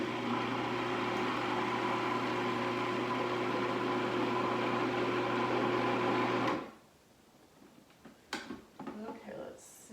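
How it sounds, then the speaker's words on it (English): A food processor runs steadily, blending black bean brownie batter with a loud even motor whir, then stops abruptly, leaving quiet scraping and handling sounds. "now we're just going to let the food processor blend this until it's smooth"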